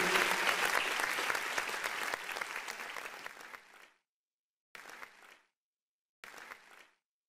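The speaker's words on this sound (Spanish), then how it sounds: "Dele palmas al Señor." A church congregation claps in worship, a long steady burst of many hands fading out at about four seconds, followed by two shorter, quieter rounds of clapping separated by silence.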